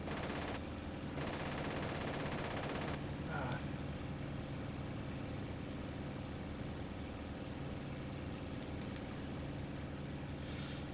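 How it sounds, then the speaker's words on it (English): An A6M5 Zero fighter's machine guns in the IL-2 Sturmovik flight sim fire in a dense, sustained rattle over a continuous engine drone, with faint clipped bursts mixed in. "with just my little puny machine gun"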